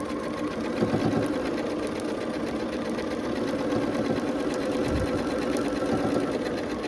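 A sewing machine stitches a quilt block for a Ribbons and Stars quilt, running steadily at close range with a continuous mechanical whir and faint rhythmic knocking throughout.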